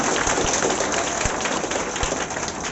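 A crowd in an audience claps steadily and densely, giving applause for matric board exam toppers, with the noise filling the whole moment.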